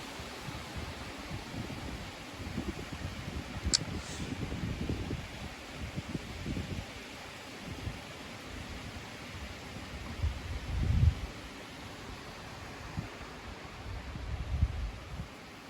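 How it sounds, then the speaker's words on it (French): Storm Aurore winds at Amboise roar as a steady broadband rush, swelling into stronger gusts now and then, with a brief sharp knock partway through and no talking. "On entend que ça souffle vraiment en continu"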